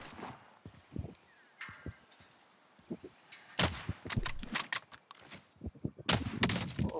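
Machine gun fire in Call of Duty: Warzone, rapid sharp bursts of shots growing denser and louder partway through, mixed with footsteps and clatter, with a voice talking at moments.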